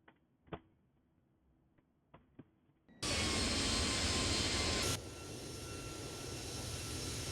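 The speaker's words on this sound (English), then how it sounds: "Landing gear up" Steady, loud roar of an Airbus A321neo in X-Plane 12 during landing gear retraction, starting abruptly after faint clicks and ticks. The roar drops slightly in level partway through and carries on without pause.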